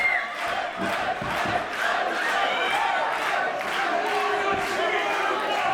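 A wrestling event crowd roaring and chanting in rhythmic waves during a Berlin title singles match, a dense, loud, sustained arena noise with a commentator's voice faintly underneath.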